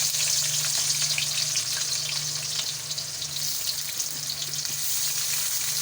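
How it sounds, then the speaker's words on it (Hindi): Chopped onions fry in half a cup of hot oil, producing a dense, continuous bright sizzle that stays loud and steady throughout, up close with no talking. "इनको हम थोड़ा सा फ्राई कर लेंगे"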